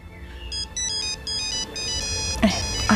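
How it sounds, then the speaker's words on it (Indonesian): Mobile phone ringtone chiming indoors in a modest home, a bright repeating electronic melody in short bursts, loud and close, with a brief voice at the end. "Ada telepon."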